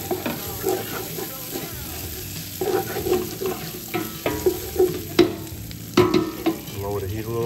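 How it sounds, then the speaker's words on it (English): Bolognese sauce frying and being stirred and scraped in a pan, with steady sizzling under repeated scraping strokes and clinks of the utensil against the pan, close and moderately loud. "Frying."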